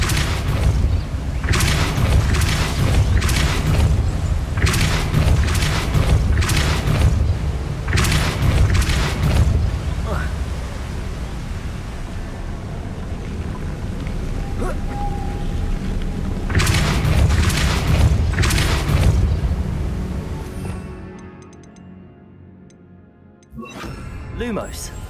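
Repeated heavy booming impacts from the Depulso force spell in the PS5 game Hogwarts Legacy, deep thudding blasts in bursts over a rumbling game soundscape, fading toward the end.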